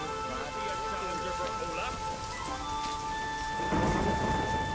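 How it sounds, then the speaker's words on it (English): A thunderstorm in The Witcher 3: Wild Hunt, with steady heavy rain on surfaces and rolling thunder growing louder near the end, under a sustained musical tone from the game. "Storm, damn it."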